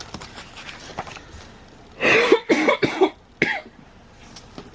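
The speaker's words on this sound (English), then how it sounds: "I'm so sorry guys that I keep coughing" A woman coughs in a burst of about four harsh, close coughs in quick succession, then one more shorter cough, with a quiet room and faint rustling before and after.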